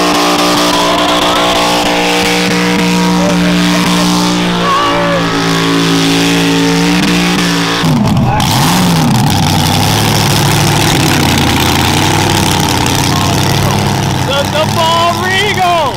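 A stock race car engine at an event drones close and loud, holding steady before shifting into surging revs and wavering pitch as the car tries to slide sideways, with voices talking over it.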